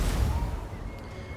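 A hell cannon artillery piece fires during a Total War Warhammer battle, a heavy low boom at the start that decays into rumbling battlefield noise, moderately loud.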